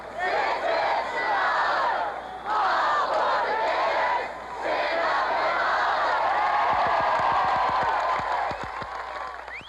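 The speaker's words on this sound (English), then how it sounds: "Two-Bits couldn't resist leading a cheer." A large stadium crowd roars in a sustained cheer led by the mascot Mr. Two-Bits, swelling in waves with whoops and a few scattered claps near the end, loud and continuous.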